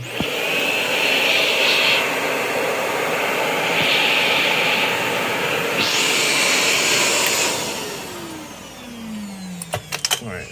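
A vacuum cleaner runs loudly with a steady roar that surges and dips in pitch, then winds down, followed by a few clicks.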